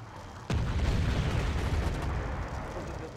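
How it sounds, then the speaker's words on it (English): Artillery in a Chechnya-mod war game, set in the battle for Grozny: one heavy boom lands abruptly, then a long rumbling roar lingers and slowly fades, with no talking. "our artillery will deal with them"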